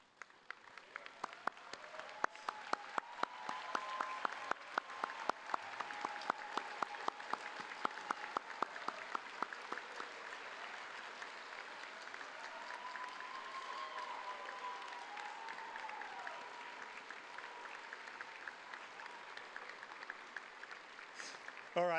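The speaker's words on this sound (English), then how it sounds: "you'll stand and express your appreciation by way of applause" An audience at a university graduation ceremony for the Faculty of Creative Industries, Education and Social Justice applauds in sustained, even clapping that carries on for over twenty seconds, faint and distant in a large hall.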